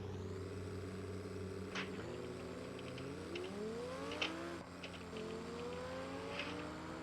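A diesel truck in BeamNG.drive accelerating through gears in a drag race, a steady synthetic engine drone climbing in pitch with a shift partway through, fairly faint and continuous.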